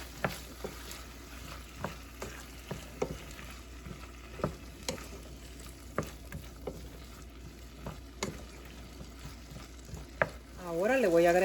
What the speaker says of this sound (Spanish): Y la vamos a sofreír un poco antes de agregarle la papa y la zanahoria.